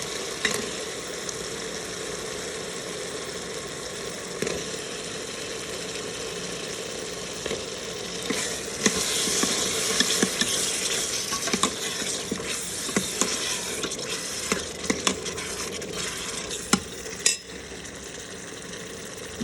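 Potatoes tip into roasted masala in a pan, frying with a continuous sizzle while a spoon scrapes and clinks against the metal in irregular strokes, close up and without talk.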